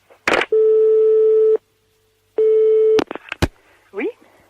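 A telephone line tone sounds during a French prank call: two long, steady beeps separated by a pause, followed by clicks and brief bits of a voice on the line.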